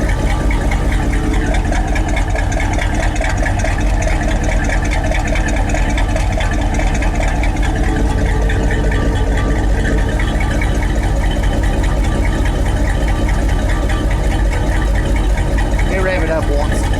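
A car exhaust fitted with a Raptor muffler idles with a steady, loud drone and a low rumble. A voice talks over the running engine.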